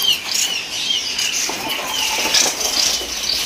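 Many captive kapas tembak birds flutter and flap their wings while being unloaded for sale, a dense continuous rustle of wingbeats with faint high calls, steady and close throughout.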